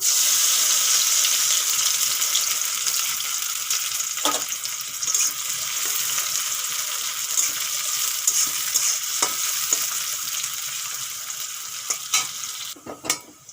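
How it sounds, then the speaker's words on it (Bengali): Onions frying in hot oil in a kadai make a loud, steady sizzle that runs almost the whole way, with a few stirring scrapes and a brief clatter near the end. "তেল গরম হয়ে গেছে এখন পেঁয়াজ ভেজে নেব"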